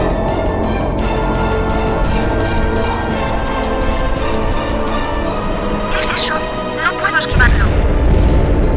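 Weapons fire at located targets in an animated sci-fi battle: sharp bursts ring out late in the scene, followed by a deep, loud boom over a busy background score.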